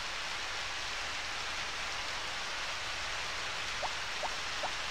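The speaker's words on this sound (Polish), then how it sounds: "Jak pada deszcz, to jest ogólnie super." Rain falling in the farming game Harvest Moon: Back to Nature, a steady hissing downpour that stays even and unbroken, with a few faint soft blips near the end.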